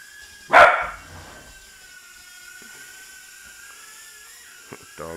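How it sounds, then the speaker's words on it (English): A dog gives one sharp bark at a hovering Eachine E010 mini quadcopter, followed by the drone's thin steady high-pitched whine that continues alone for several seconds. "Dog likes to bark at my quadcopters."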